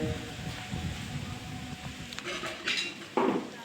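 Dishes clinking and scraping as they are washed outdoors at a village house, light scattered clatters over a steady background, with a couple of brighter knocks near the end.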